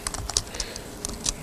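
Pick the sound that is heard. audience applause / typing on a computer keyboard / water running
typing on a computer keyboard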